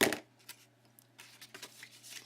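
Scissors snip paper for a flip folio, a sharp first cut followed by several lighter, quick snips and rustles, close and fairly quiet against a faint steady hum.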